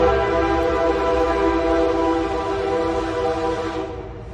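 A train horn sounds in a long, steady tonal blast with strong harmonic bands, loud and close, holding for about four seconds before fading at the end, with no talk over it.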